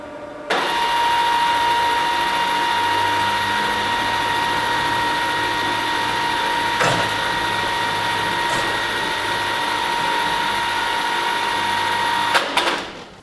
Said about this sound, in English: The method I'm going to show you today to access the blades is by using the crane method, as this gives far easier access.